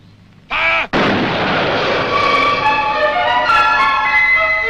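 A gun fires on a spoken order to fire, a single loud close blast followed by a long rumbling, ringing decay that fills the rest of the moment.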